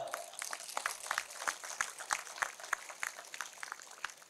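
An audience at a talk claps, a brisk run of sharp, fairly faint hand claps with a loose rhythm, some individual claps standing out, over light room murmur.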